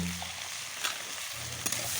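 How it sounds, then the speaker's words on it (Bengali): Long strips of raw banana frying in oil with salt and turmeric give a soft continuous sizzle, with two brief sharper clicks of stirring, close by; no talking. "লম্বা লম্বা করে কেটে রাখা কাঁচা কলা লবণ আর পরিমাণ মতো হলুদ দিয়ে খুব ভালো করে ভেজে নিতে হবে"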